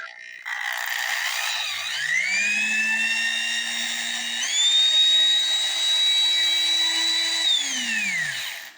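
A 1970 Black and Decker quarter-inch corded variable-speed drill whines up to speed, holds a steady loud motor tone, steps higher midway, then winds down, with no talk over it.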